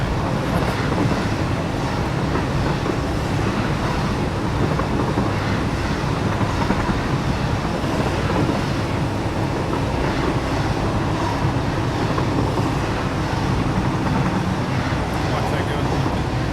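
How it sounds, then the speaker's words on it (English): Train running in the video game Satisfactory, a loud continuous rumbling rail roar with faint rhythmic clatter, steady throughout with a voice talking underneath. "If you can't hear me with the sound of the train"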